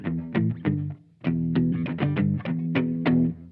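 Silvertone 1446 electric guitar played on its neck pickup with the tone controls rolled down, giving a warm, dark sound: a short run of plucked notes and chords, moderately loud, alone with no talk.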